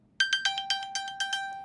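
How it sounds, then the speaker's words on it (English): An iPhone chimes repeatedly after being pinged from an Apple Watch, giving a quick run of about eight bright, evenly spaced electronic tones that ring out loud and close with no talking. "It'll ping my phone."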